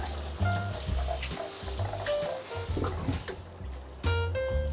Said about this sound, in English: grab the fresh rinse hose, and we have fresh warm water to rinse off